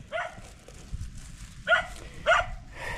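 Two dogs barking in short bursts outdoors, three or four sharp barks spaced apart and fairly close, over a low rumbling background.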